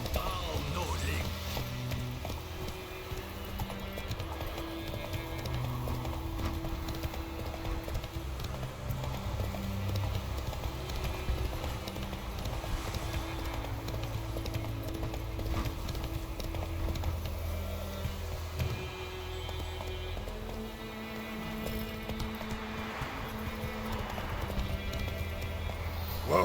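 Roach, Geralt's horse in The Witcher 3 video game, gallops with a steady rhythmic clip-clop of hooves that runs throughout, mixed with in-game music and ambient sound.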